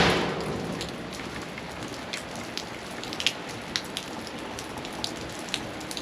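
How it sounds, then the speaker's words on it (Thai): Rain falls steadily on a surface, a dense hiss with scattered louder drips and taps, loudest at the start and then even and continuous, with no voices. "ฝนตก"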